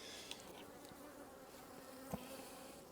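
Honey bee colony humming steadily from an opened hive being inspected for queen-rearing traits, a continuous close drone with a few brief louder passes of individual bees.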